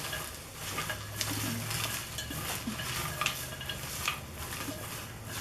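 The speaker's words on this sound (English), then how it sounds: "Throw all your onions in. And just coat them with the butter." A utensil stirs onions in melted butter inside a crock pot, producing soft, continuous scraping and clinking with light sizzle-like rustle, quiet and steady throughout.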